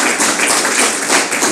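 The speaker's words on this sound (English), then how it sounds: "They really deserve a tremendous amount of applause." An audience at a business recognition award ceremony applauds, a dense and steady wash of clapping hands held at moderate loudness for the whole moment.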